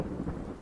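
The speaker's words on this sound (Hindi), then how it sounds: "बारिश शुरू हो गई थी।" Rain falls steadily with a low rumble of thunder underneath in a Banaras love story drama, a brief, full wash of storm sound with no voices.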